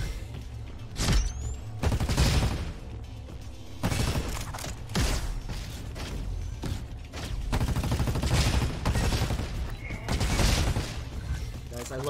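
Video-game gunfire from a gun in a roguelite shooter, heard as repeated bursts of rapid shots separated by short pauses at a moderate level.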